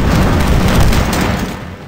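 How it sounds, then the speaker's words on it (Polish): Explosions in the Medal of Honor Warfighter campaign: a loud, broad booming rumble that lasts about two seconds and then fades out. "Medal of Honor to jedne wielkie, wielkie wybuchy"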